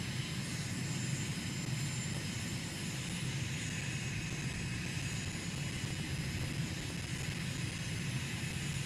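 Cessna 172 propeller engine droning in Microsoft Flight Simulator, a steady, even hum with no pauses, moderately quiet and heard alone without voices.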